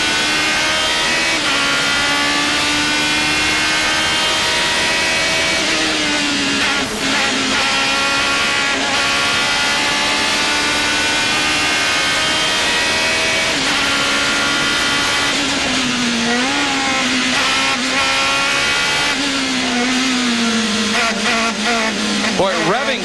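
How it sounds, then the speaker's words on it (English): A race car's loud, sustained high-pitched engine whine rises and falls with the revs, continuous throughout, with faint commentary underneath, heard from onboard at the 2000 Runoffs. "Now listen to this engine whine."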